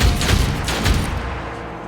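A dense gunfire burst in the turn-based tactical game Othercide, a rapid rattling volley that fills the short clip at steady loudness with no speech.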